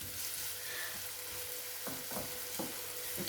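Garlic, onion and chili pepper frying in a pan, a soft even sizzle close by with a few spatula scrapes and knocks toward the end.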